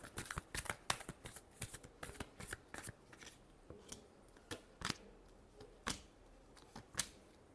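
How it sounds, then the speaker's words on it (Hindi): Tarot cards shuffled by hand in a quiet room, a series of crisp riffling bursts and soft taps in an uneven rhythm, close and clear with no talking. "last shuffle"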